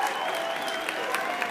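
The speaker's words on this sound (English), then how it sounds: "Let's have a round of applause for all of these people," Audience at a convention general session applauding, a dense, steady wash of many hands clapping that holds evenly throughout with a faint crowd murmur beneath.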